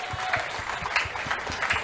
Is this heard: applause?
yes